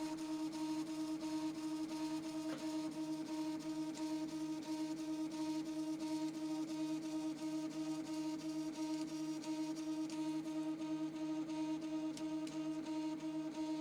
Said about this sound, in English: that's actually those screws making noise that you can hear